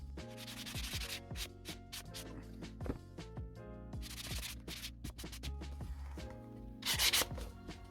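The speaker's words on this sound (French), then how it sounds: "Un petit ponçage habituel." Hand sanding of a damaged book, with steady rhythmic rubbing strokes that rise and fall in bursts, close and fairly loud, with no talking.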